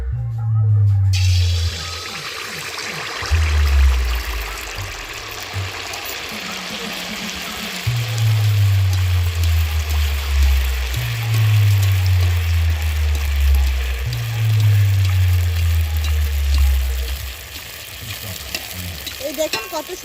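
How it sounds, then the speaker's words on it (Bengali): Jaggery malpua batter ladled into hot oil in a pan, a bright continuous sizzle close by, with repeated low rhythmic thumps underneath through most of the clip. "এক হাতা ব্যাটার আবারও আমি তেলের মাঝখানে দিয়ে দেবো।"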